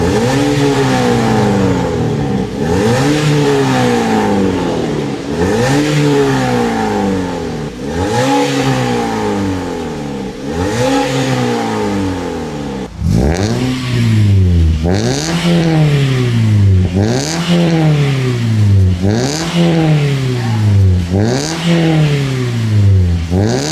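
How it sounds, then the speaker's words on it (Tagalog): A Toyota Vios with custom 4-2-1 headers, full piping and a Magnaflow muffler and tip revs loudly and repeatedly, each throttle blip rising and falling in a steady rhythm, the revs growing harder and louder partway through. "itong naka-full exhaust using our fabricated custom headers, full pipings, tapos Magna flow tip"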